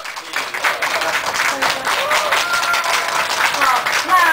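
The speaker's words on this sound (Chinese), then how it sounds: "那我们再一次热烈掌声来" An audience claps for a four-person performing group at a Lunar New Year event, a sustained round of applause with a voice speaking over it and rising toward the end.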